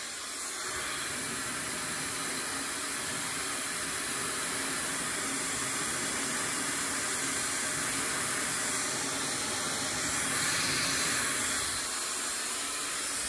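A hair dryer blows heat steadily onto a beard during grooming, giving a constant, close airy whoosh with a slight swell near the end.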